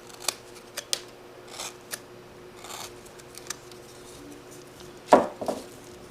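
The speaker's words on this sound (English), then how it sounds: "Take a stab cut. I'll take my number 2 chisel." Sharp wood-carving stab cuts made with a number 2 chisel, several crisp isolated taps and clicks spaced irregularly, ending in one louder, scraping cut near the end.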